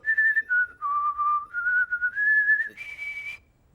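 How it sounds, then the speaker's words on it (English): Cartoon butt-whistle from The Amazing World of Gumball's Rocky, a clear whistled melody of several stepped, held notes rising and falling over nearly four seconds, fairly close and alone, ending abruptly. "Rocky can actually whistle in a very strange way, with his butt."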